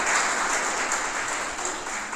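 Audience applause at a community welcome ceremony, a dense, steady clapping from a crowd held at even loudness, with a faint voice barely present beneath it.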